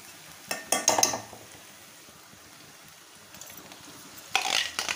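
Onions and tomatoes being fried in oil for Kolhapuri misal give a soft, low sizzle in the pan. A couple of scraping stirs come early and another near the end, and no one speaks.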